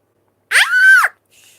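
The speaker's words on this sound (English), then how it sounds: "Don't scream." A child lets out a single short, high-pitched scream close to the microphone, rising and falling over about half a second, followed by a faint trailing sound.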